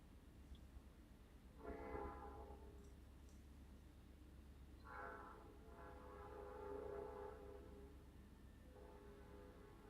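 A train passes outside a house, its horn sounding in several long, moderately distant blasts over a steady low rumble of rolling cars.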